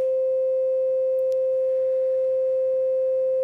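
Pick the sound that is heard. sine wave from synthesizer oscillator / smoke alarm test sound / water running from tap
sine wave from synthesizer oscillator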